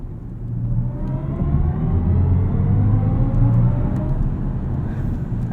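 A 2023 BMW i7 xDrive60 electric sedan driven in sport mode, heard from inside the cabin as a low synthetic drive hum that rises smoothly in pitch with road rumble beneath, moderately loud and continuous.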